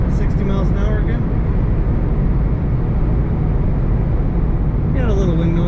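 A 2006 Ford Mustang GT convertible cruising at 60 mph gives a steady, loud roar of road and wind noise throughout, with a voice briefly audible at the start and again near the end.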